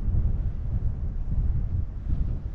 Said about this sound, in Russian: Ну вот сейчас вроде не сильно дует.